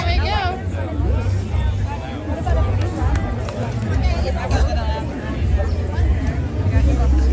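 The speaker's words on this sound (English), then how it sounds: "And the crowd pushes forward." Dense crowd hubbub and babble at Disneyland rope drop as people push forward, a steady loud mass of overlapping voices with low rumble underneath throughout.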